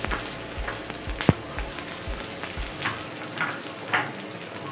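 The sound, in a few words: vegetables frying in oil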